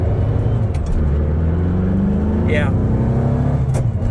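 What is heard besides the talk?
engine with China 40 IDF carburetors popping under hard throttle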